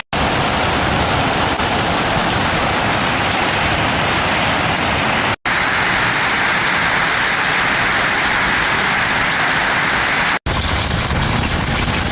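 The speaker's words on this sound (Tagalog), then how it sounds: "Inabot pa ng ulan, ang lakas" Loud, dense rain pouring steadily, a constant broadband hiss with no voices, cut by two brief dropouts.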